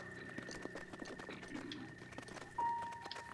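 Horse hooves clip-clop in a steady rhythm with occasional whinnies, from a horse in Zelda: Breath of the Wild, with game ambience and background music underneath and a brief tonal chime near the end.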